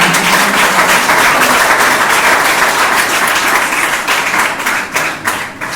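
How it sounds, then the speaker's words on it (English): Audience applause for a team at an inter-school quiz: loud, dense clapping from a crowd that holds steady, then thins slightly near the end. "Let's clap for them."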